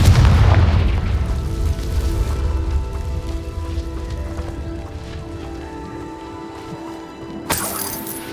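A Confringo spell cast in a video game hits with a loud, heavy blast at the start, then a long rumbling, crackling tail like falling debris, and a sharp burst near the end.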